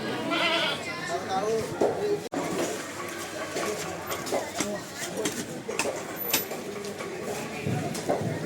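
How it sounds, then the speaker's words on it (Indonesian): Sheep or goats bleat repeatedly amid an outdoor crowd at an Eid al-Adha sacrifice gathering at a mosque, with people talking throughout and the animal calls rising in short bursts over the chatter. "ini kambing atau domba"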